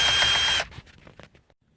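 A power driver whirs briefly while removing 7mm bolts from the dash radio of a 2010 Ford F150, the short loud spin giving way to faint clicks and clinks of handled parts.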